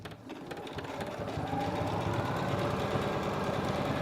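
Singer Professional 9100 sewing machine stitching a buttonhole, a quiet rapid mechanical whirring chatter that builds over the first second and then runs steady and close, with no talking.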